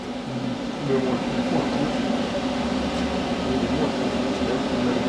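An R1234yf A/C recharge machine's vacuum pump drones steadily with a low hum, unbroken throughout at an even, moderately loud level.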